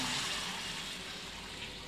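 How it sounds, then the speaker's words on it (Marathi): Hot water gushing into a pot of vegetable masala khichdi on the stove, a brief steady pour, close and continuous without talk. "आता पाणी टाकते."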